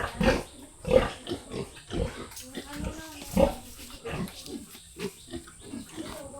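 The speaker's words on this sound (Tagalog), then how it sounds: "Dami nilang baboy." Pigs grunting in short bursts around a barn, mixed with people talking nearby and a steady background hum.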